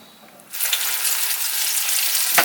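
Food dropped into hot grease on a boat erupts into a loud, steady sizzle after a quiet half second and holds a dense, hissing crackle to the end.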